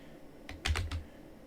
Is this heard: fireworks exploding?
no